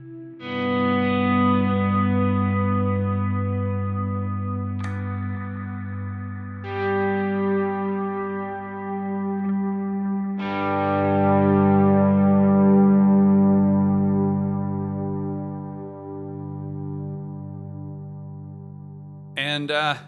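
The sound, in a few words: guitar with distortion and effects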